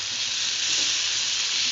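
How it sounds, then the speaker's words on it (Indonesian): Beef skin and long beans stir-fry in oil for a green chili dish, giving a loud, steady, close sizzle that runs unbroken throughout with no voices. "Ini kita tumis dengan menggunakan minyak yang tadi bekas menggoreng bumbunya."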